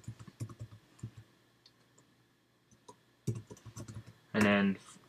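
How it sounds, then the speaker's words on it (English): Close computer keyboard typing during a programming tutorial: quick bursts of clicking keys, a pause, then another run of keystrokes before a voice begins at the end. "And now we're just simply typing Quartz Core."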